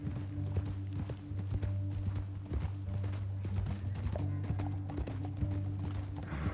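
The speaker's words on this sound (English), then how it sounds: "Olha o cavalo." Hoofbeats of a galloping horse in the video game Red Dead Redemption 2, rapid repeated thuds rolling along at a steady pace over a low humming background, moderately loud and close.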